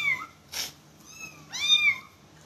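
Kitten meowing in two separate bursts, each a high, bright, drawn-out mew with a rising and falling pitch, close and clear against a quiet room, with no one talking.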